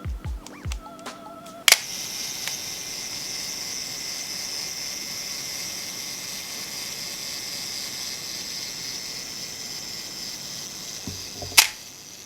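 A 35mm film camera's self-timer whirs steadily for about ten seconds between a sharp click at the start and another mechanical click as the shutter fires.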